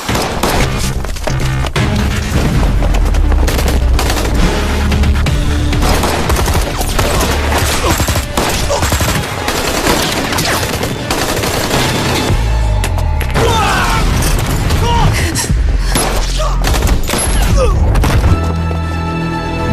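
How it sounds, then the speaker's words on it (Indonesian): A dense film shootout between a special forces team and hired killers, with rapid overlapping gunfire bursts, booming shots and splintering impacts running continuously and loud throughout. "Terjadilah baku tembak sengit yang sangat mengkojorkan."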